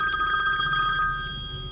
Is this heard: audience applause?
no